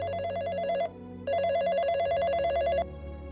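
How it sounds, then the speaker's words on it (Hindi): A telephone bell rings in two long electronic bursts separated by a short pause, loud and close, with no voices. "गीत का फोन है।"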